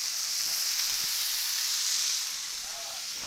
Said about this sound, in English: We're gonna fry these bad boys up in our bacon grease